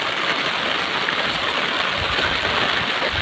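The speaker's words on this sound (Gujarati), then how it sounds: "વરસાદ પણ જોરદાર છે" Heavy rain pours down over farm fields in a dense, steady hiss that stays loud and even throughout, with no voices.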